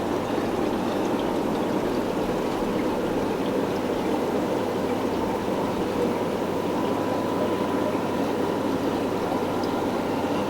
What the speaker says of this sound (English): all these tanks are running on sponge filters as well